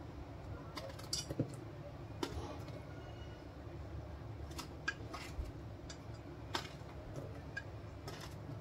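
A knife cuts a peeled eggplant for bharit into large chunks, making faint, sparse clicks and taps against a board in a quiet kitchen.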